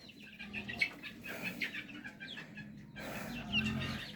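Free-range chickens squabbling on a farm, with repeated clucks and squawks over a steady low hum, plus a brief flurry near the end that may be wing flapping. No one speaks.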